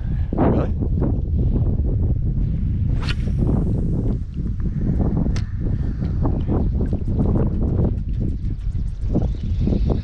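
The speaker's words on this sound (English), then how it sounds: "The wind's a bit gnarly." Gusty wind buffeting a microphone on shallow fishing flats, rough low rumbling that swells and dips, with scattered light knocks and splashy clicks throughout.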